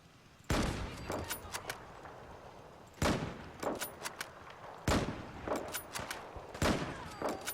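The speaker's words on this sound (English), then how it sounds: "it's playing the big 50 cal sounds that I made replace the hunting rifle things" Loud, booming rifle shots from a Kar98K in Fallout 4, using Battlefield 4 style heavy .50 caliber sounds replacing the hunting rifle, four separate blasts with a bolt-action pause and echoing tail between each.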